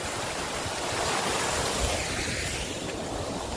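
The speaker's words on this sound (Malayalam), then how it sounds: "കാടിൻ്റെ ഇടയിൽ കൂടി ഒഴുകി വരുന്ന നല്ല കിടിലനൊരു അരുവി" A clear stream flows through dense forest along the Braganza Ghat, giving a continuous, full rushing wash of water at a steady level and close by, with no voices.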